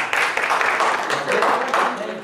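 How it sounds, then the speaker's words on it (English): Applause for a workshop group at a youth and inspiration economy forum in India, a dense, steady patter of many hands clapping from an audience, loud and sustained throughout, with voices mixed in. "Can you give them applause for this group?"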